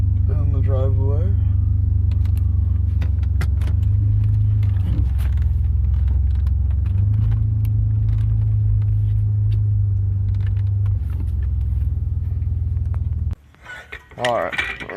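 A BMW E46 rolls into a driveway, its engine a steady low rumble that shifts pitch as it moves, then cuts off near the end followed by brief clatter; a voice speaks over it.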